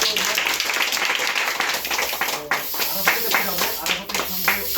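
Crowd clapping for a soldier finally selected into the Bangladesh Army, dense sustained applause from many hands with voices mixed in.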